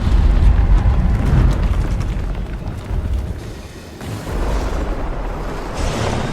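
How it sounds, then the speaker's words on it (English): A bloodstone explodes in Guild Wars 2, a heavy rumbling eruption with deep booming low end that swells, dips briefly and surges again, loud and sustained without any talking. "That bloodstone explosion seemed to trigger some sort of magical echo."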